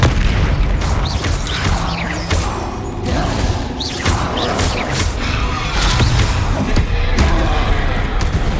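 Explosive Confringo spell blasts in Hogwarts Legacy, a string of heavy booms, thuds and crashes with whooshing bursts, loud and dense throughout, with faint voice cues mixed in.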